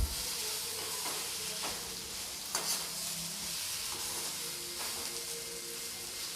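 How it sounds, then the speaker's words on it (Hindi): Bitter gourd bhujia cooking in a pan, with a steady close sizzle and hiss throughout and a few soft clinks and scrapes of stirring. "इस करेले के भुजिया को पकते हुए लगभग 3 मिनट हो चुके हैं।"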